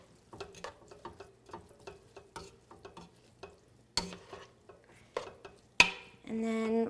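A spoon stirs three-bean chili with mild peppers in a cooking pot, making a rhythmic series of wet scraping strokes over a faint sizzle, ending with a louder clatter and a sustained, rougher burst.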